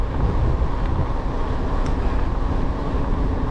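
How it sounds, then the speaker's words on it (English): Strong, warm spring wind roars across the microphone during an evening bike ride in a forest park, a steady, heavy low rumble that never lets up. "that wind is still absolutely brutal even though it's nice and warm. It's like cycling into a wind tunnel"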